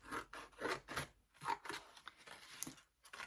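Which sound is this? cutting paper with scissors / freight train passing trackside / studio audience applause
cutting paper with scissors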